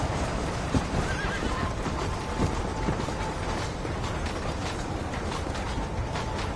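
Horse hooves clip-clop steadily beneath a whinny while a horse is ridden in Red Dead Redemption, with tack and gear rattling in a dense, loud, continuous mix and no talk.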